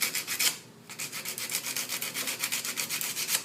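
Rust is sanded off an object by hand, a close, rhythmic rasping scrub repeated in quick, even strokes after a brief pause near the start.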